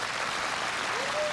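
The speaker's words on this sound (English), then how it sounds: "Now it's not so quiet here at the Thunder Bay Tournament Center as this crowd responds to Heather Houston getting ready to throw" A curling crowd at the Thunder Bay Tournament Center applauding, a dense wash of clapping filling the arena at moderate distance, with a voice talking briefly near the end.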